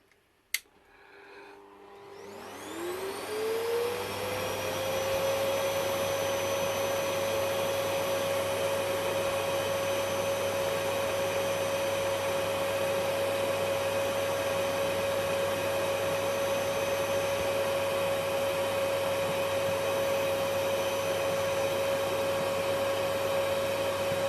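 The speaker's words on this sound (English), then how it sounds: "We switch the vacuum cleaner on." A vacuum cleaner used for vacuum forming plastic clicks on and its motor whines up to a steady, loud drone that continues unbroken, with a sustained high-pitched tone on top.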